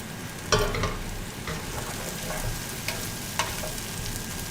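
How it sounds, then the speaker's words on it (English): Plantains and onion frying in a pan, stirred often: an even close sizzle broken by a few sharp scrapes and knocks of the utensil against the pan. "I'm continuing to stir this fairly frequently because I don't want my plantains to accidentally stick to the bottom of the pan"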